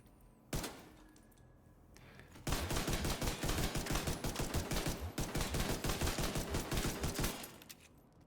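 Pistol gunfire in a video game: a single sharp shot, then a rapid, sustained volley of loud shots rattling for several seconds before cutting off.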